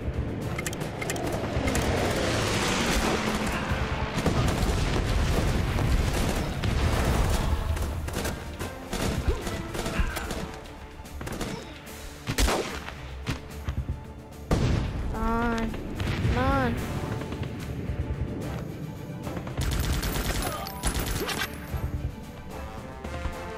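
Bombing run in the Guns Up! game, a string of heavy crashing explosions and booms over battle noise, loud and dense at first, then thinning into scattered impacts and whooshes.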